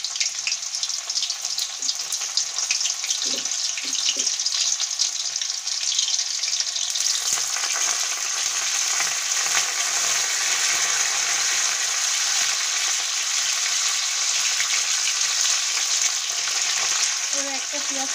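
Crushed garlic and curry leaves fry in hot oil in a pan for sambar with a continuous bright sizzle and light crackle, close and steady, plus a few soft stirring knocks and no talking.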